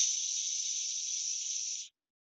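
A voice makes a steady, hissing "shh" for nearly two seconds, imitating a lawn sprinkler, then stops abruptly into silence.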